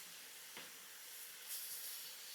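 Ham sizzles in a cooking pan, a steady, faint broadband hiss with a soft pop or two, heard alone without talk.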